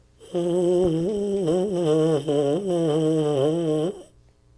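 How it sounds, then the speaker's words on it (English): A buzzing baritone mouthpiece holds a low, fairly steady tone for about four seconds, with slight wavers in pitch, close and alone. "Your goal is to play the same sound for the duration of your mouthpiece sound."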